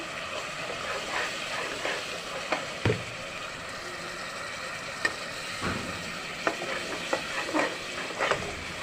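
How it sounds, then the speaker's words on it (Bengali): Spice paste of cumin and salt being stirred and fried in a pan for chal-dal bhuna khichuri: a steady sizzle with occasional scraping strokes of a spoon, close and fairly loud, and no talking. "এখন আমরা মশলাটা ভালোভাবে কষিয়ে নিব।"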